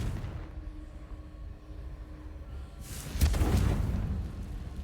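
A Confringo spell blast in Hogwarts Legacy: a sudden fiery burst strikes partway through, rising over a low hum of background game ambience before trailing off.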